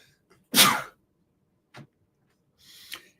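A single sharp sneeze bursts out close by, followed by a faint short sound and a softer breathy exhale in otherwise quiet surroundings.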